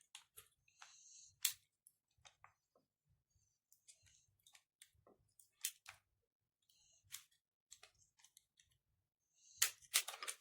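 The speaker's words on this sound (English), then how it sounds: "I'm just going to cut that out with my knife just to fix it up a bit more" A knife carves a notch into hollow wood for a primitive spring trap, giving faint, close, irregular scraping clicks and small cuts in short bursts with quiet gaps between them, and no talking.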